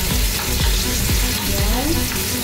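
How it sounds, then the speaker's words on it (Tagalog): Chopped onions sauté in a hot pan toward golden brown, a loud, continuous sizzle and crackle with occasional stirring scrapes, close up and without talk. "Igigisa lang ulit natin siya hanggang sa mag-golden brown."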